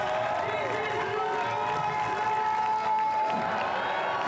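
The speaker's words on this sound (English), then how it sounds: "Oh, hear the crowd." Crowd at the FISE Montpellier 2024 UCI BMX Freestyle Park World Cup cheering and shouting loudly, a sustained roar with whistles and applause, with a commentator talking over it.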